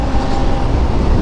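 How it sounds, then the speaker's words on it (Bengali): A train rumbles past close by near the Farakka Barrage, a loud, steady rolling roar that fills the whole brief moment without a break. "এই যে এই যে ট্রেন ভাই দেখো"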